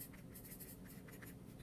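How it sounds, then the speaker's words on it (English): Pencil scratching steadily across paper as a name is written on the back of a scratch-art board, a close, continuous gritty rasp with no voices. "Step one, you're going to write your name"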